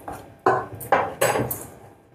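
Spices are stirred together in a bowl for a Sanna Karam Poosa snack mix, three distinct clinks and scrapes of a spoon against the bowl, close and fairly loud, with no voices.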